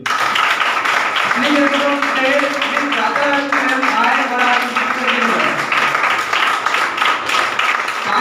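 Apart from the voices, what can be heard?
audience clapping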